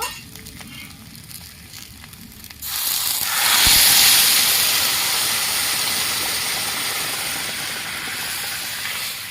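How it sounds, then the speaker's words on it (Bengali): Hot water hits a hot pan of fried rice and lentils for a Bengali dal-rice dish, bursting into a loud, steady steam hiss after a quiet start, then slowly easing off. "ভালো করে আমি ভেজে নিয়েছি এবার আমি গরম জল ঢেলে দেব"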